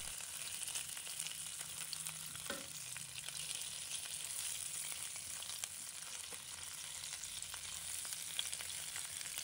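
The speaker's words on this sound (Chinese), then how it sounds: "翻好面以后，按同样的方法给它煎至定型" Fish fillets sizzle steadily in a hot oiled pan as one side sets after turning, a continuous close frying hiss with a brief stir or shake of the pan partway through.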